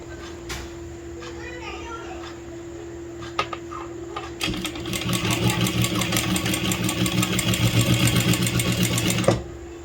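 A sewing machine runs in a steady rapid whir while stitching thread piping onto a blouse, starting after a few faint taps and handling sounds and continuing loud and close for about five seconds before stopping.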